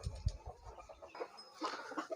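Chickens cluck softly nearby, a few short low clucks followed by brief higher calls, fairly quiet with no talking.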